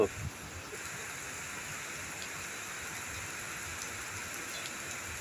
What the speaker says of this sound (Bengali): রৌদ্রের মধ্যে বৃষ্টি পড়তেছে